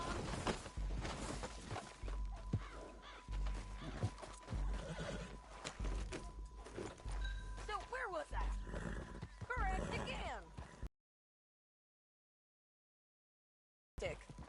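A ridden horse in Red Dead Redemption 2 snorts and whinnies loudly over hoof clip-clops and game ambience, with characters talking over it, before the sound cuts to silence near the end.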